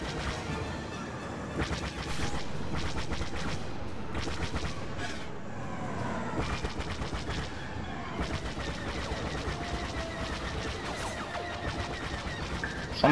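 Dense, continuous blaster gunfire and explosions fill a busy Star Wars Battlefront battle, with rapid repeated shots and crashes close and far over a constant loud background.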